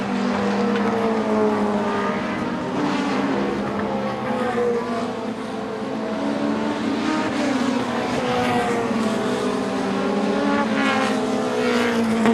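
Light Pro 4 race cars circle a short track, engines droning continuously at high revs with rising and falling pitch as they pass, loud and steady without talk.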